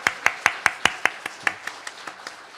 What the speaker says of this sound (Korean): 우리 다시 한번 하나님께 영광 박수 올릴까요?